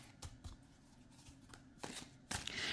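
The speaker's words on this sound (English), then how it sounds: "overhand shuffle like so." A deck of tarot cards is riffled through in an overhand shuffle, giving soft, quiet flicks and papery slaps in irregular bursts, close and faint.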